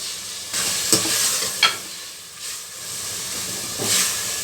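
Tomato fries in oil for moong dal sambar, a continuous bright hiss and sizzle broken by a couple of sharp utensil clinks as it is stirred, close up with no talking.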